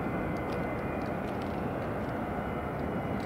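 A Delta airliner takes off from the runway at MSP airport, with a loud, steady, broadband engine roar filling the short stretch without a break.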